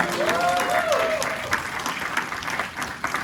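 Studio audience applause for a departing game show contestant, a steady wash of clapping that holds loud and fairly even through the clip, with faint voices underneath.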